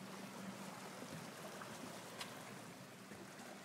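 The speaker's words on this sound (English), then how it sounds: "And this is the babbling brook." Small babbling brook in Arizona, with water trickling and flowing in a soft, steady wash, fairly faint and continuous, with no talk.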